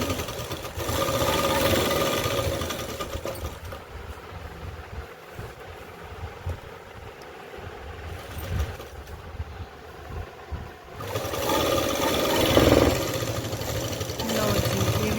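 An electric sewing machine stitching palazzo pants fabric runs in close, buzzing bursts, pausing briefly in the middle before starting up again.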